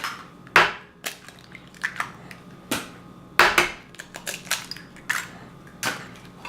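Eggs cracked into a bowl for chicken strip batter, with a series of sharp, close taps and cracks spaced irregularly, some louder knocks among lighter clicks and no talking.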